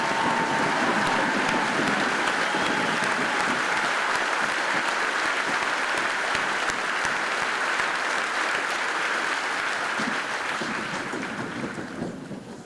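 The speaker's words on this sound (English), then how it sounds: "would you also please rise and join us in another round of applause for these fine Americans" Applause from an audience at an Army basic combat training graduation ceremony, a sustained, dense roar of clapping from a large crowd that holds steady for over twelve seconds before beginning to thin out at the end.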